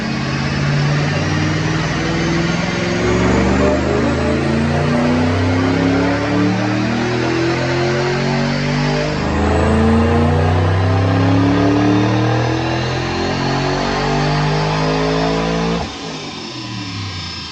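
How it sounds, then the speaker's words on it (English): A supercharged 2008 Mustang GT 3-valve with a manual transmission runs on a DynoJet dyno, climbing loudly through the gears in long rising wails with brief shift dips, then backing off near the end. "Check out this dyno pull."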